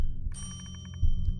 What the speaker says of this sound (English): I've been ringing that bell for 10 minutes straight.